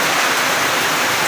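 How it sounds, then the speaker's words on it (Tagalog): Heavy typhoon rain pours down in a dense, steady roar, loud and close with no letup and no voices. "grabe until now ang ulan, grabe ang ulan"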